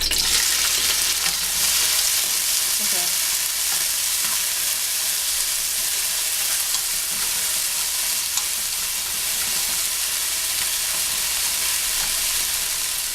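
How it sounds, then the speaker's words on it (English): Mushrooms sautéing in a pan for veal marsala, a loud, dense, continuous frying sizzle and hiss heard up close, with faint stirring underneath and no talk. "I'm going to just saute the mushrooms a little bit and then pull it out"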